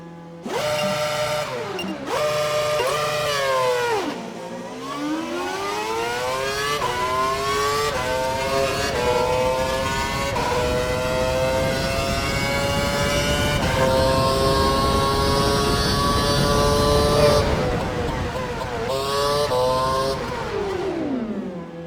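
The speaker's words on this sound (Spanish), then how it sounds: "acelera a más de 257 km por hora y frena para que el coche se detenga en la zona marcada" F1 car engine in the F1 2012 racing game, revving hard as it accelerates through rising gear-change sweeps past 257 km/h, then dropping as it brakes to a stop, loud and continuous with no talk.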